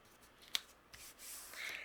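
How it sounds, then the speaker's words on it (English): Scissors make a few quiet, close snips, trimming excess vellum overhanging a sticker on a paper card, with soft rustling of the paper between cuts. "I'm going to trim off the excess that's overhanging."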